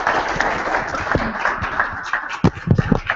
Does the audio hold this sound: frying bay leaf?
no